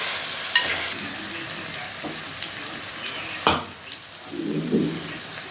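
Whole spices sizzling in hot oil for tempering while mutton curry is cooked, a steady close frying hiss with a few sharp clicks and a stirring scrape near the end.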